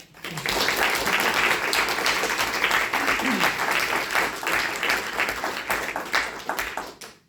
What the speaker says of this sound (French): qu'on les applaudisse aussi